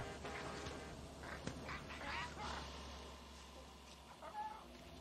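An angry rooster named Chicharrón in Far Cry 6 gives faint, short squawking calls against a low, steady game ambience, quiet and somewhat distant.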